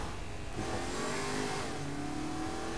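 A car driven over people in Saints Row the Third, its engine revving and humming steadily close by with a rising tonal whine, without any talk.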